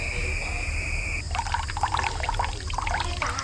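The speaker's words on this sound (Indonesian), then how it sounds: "Ada air keran. Ada air kan kecil banget ngalirnya." A thin trickle of water running from a tap at a village prayer-room toilet, a soft continuous splashing and dribbling close by, with a steady tone early on and light voices in the background.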